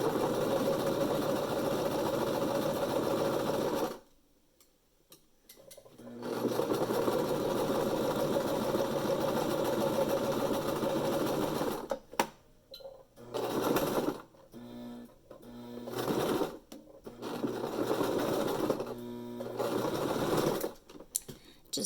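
A sewing machine runs steadily, stitching fabric with elastic held taut, its motor whirring in long bursts broken by short pauses and a few quick stop-start runs near the end.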